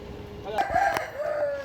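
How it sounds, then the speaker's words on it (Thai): A newly arrived fighting cock crows close by, one strained, wavering call rising and then trailing off over a little more than a second, with faint background noise. "นี่ครับไก่ถึงแล้วนะครับ"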